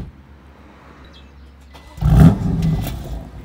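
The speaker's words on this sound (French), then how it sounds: "On va passer au petit start-up donc de la voiture." A BMW M3 F80 Competition with its exhaust valves closed starts up: after a quiet lead-in, the engine catches with a loud, bassy burst and settles into a steady, fairly muted idle.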